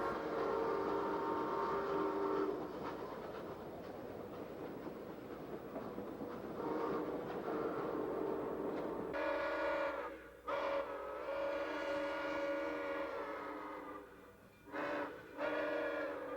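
A model train runs along a four-track main line past worn industrial buildings modeled on Manchester, with a steady rolling rumble, a whistle-like tone midway, and brief dropouts near the end, fairly close and with no talk.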